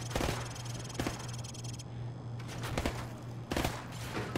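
Rifle shots at range targets in Call of Duty 4: Modern Warfare, several sharp cracks spaced about a second apart, some in quick pairs, loud and close over a low steady hum, no voices.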